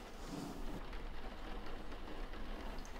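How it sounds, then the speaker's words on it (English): Heavy rain falling outdoors makes a steady, soft hiss, fairly faint and unbroken, with no voices. "It was raining hard outside."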